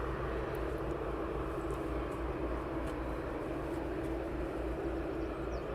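A Boeing 747 sits at East Midlands Airport with its engines running before taxiing out, giving a steady, loud, broadband roar that holds unchanged throughout with no voices.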